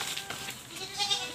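Breeding does bleat while being fed moringa leaves on a farm, a short, fairly faint call heard close by.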